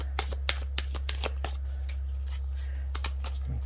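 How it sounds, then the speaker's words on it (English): Tarot cards being shuffled by hand in a quiet room, a series of sharp crisp riffles and snaps spaced irregularly over a steady low hum. "we're going to shuffle these."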